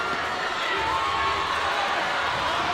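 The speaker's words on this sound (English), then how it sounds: "Crowd reaching a fever pitch." A dense arena crowd roars continuously at a WFTDA roller derby final match in 2015, a loud, steady wall of cheering with no break across the short stretch.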